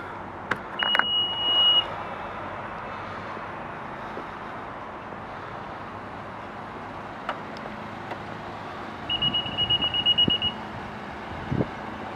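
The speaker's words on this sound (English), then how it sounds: "Opening the lift gate here does come power operated" A 2018 Acura MDX SH-AWD Sport Hybrid power liftgate gives a sustained electronic warning tone at the start, then runs with soft motor hums and clicks before a second steady chime near the end, with no speech.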